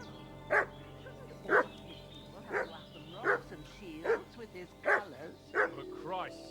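A dog in Kingdom Come Deliverance 2 barks repeatedly, about seven sharp barks in a fairly regular rhythm, close and clear over a quiet background.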